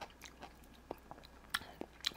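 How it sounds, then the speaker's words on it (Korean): Crunchy bites into a pickle slice served with a military burger of ham and beef patty, heard as a few short, close, separate crunches with pauses between them and no voice. "피클이라도 하나 먹을까?"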